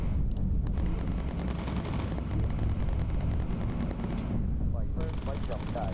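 Dense, continuous bursts of distant flak explosions and rapid gunfire crackle throughout in the video game Bomber Crew, with short bright high-pitched bursts layered over a rumbling low end.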